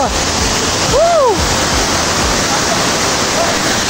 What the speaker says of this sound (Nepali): मदेखि 2 मिटर अगाडि झरना छ